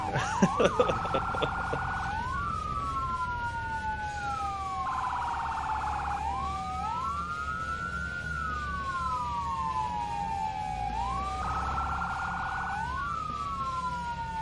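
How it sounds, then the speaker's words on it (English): A fire truck siren in Firefighting Simulator wails loud and close, sweeping up and down in repeated cycles broken by short rapid yelp bursts, with no talking over it. "turn on the siren"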